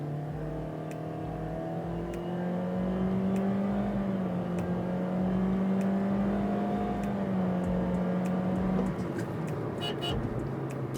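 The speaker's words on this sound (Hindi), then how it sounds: "ये मैंने फुल थ्रोटल दिया है।" A 2025 Toyota Corolla Altis 1.6 Special Edition pulls away from a standstill at full throttle, its engine note rising steadily and holding a strained drone for several seconds before easing near the end.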